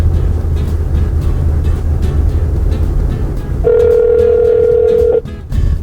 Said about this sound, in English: Call Mom. Would you like to call? Mom